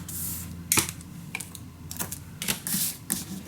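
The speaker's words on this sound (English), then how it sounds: "I'm gonna add my tape on here" Tape being pressed onto a paper mini album, a series of sharp crinkly taps and short rustles in an irregular rhythm, close and fairly quiet.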